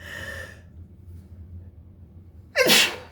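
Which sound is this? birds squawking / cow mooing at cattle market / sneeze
sneeze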